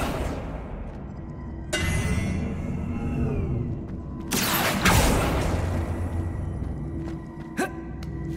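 Accio spell cast in Hogwarts Legacy, a whooshing magical surge with ringing shimmer, followed by a second louder burst and a few sharp clicks, all without speech.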